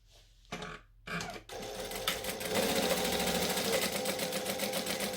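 A sewing machine quilting a project runs in short bursts at first, then settles into a steady, continuous close stitching hum with a dense mechanical buzz.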